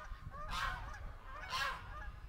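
Two loud honks from geese ring out about a second apart, fairly close, over a quiet outdoor background.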